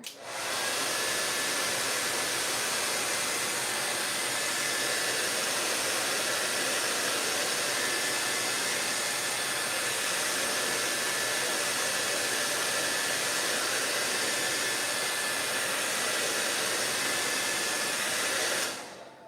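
Steady, loud hair dryer blowing without a break for about twenty seconds as it dries fresh paint.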